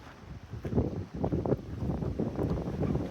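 An evening breeze rushes past the microphone outdoors near Big Bend, a steady low buffeting roar with gusty swells and no talking.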